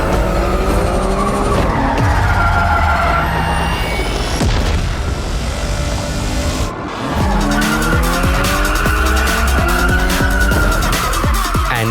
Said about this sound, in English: In drift mode, the M4 Competition will not stop you from turning your expensive pilot sports into smoke